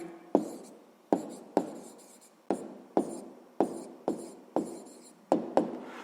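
A pen or pencil writes numbers for a sixth-grade math exercise, with about ten quick scratchy strokes in an uneven rhythm, each starting with a sharp tap and fading fast, close and alone.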